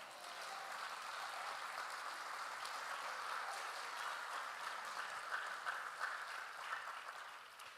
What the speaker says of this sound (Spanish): Si yo fuera usted, yo le daba un aplauso a Dios con eso.